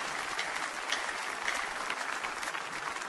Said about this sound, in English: Shall we put our hands together and clap for the Lord?